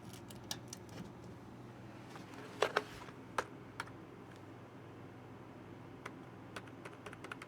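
Intermittent keystrokes on a computer keyboard during a live computer class, scattered sharp clicks with a couple of louder taps standing out over a steady room hum, fairly faint and with no talking.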